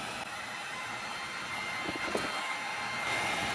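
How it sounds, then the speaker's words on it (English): A heat gun blows a steady, even hiss of hot air close by, softening a stiff part during a HotSpring spa heater replacement, with no talking. "Our heat gun."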